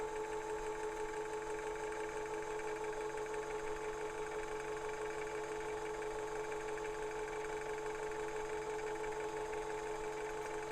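Sewing machine stitching around the edge of a fabric leaf garland with wadding and backing fabric, an even, continuous mechanical whir with a fast regular clatter, close and steady throughout, no voices.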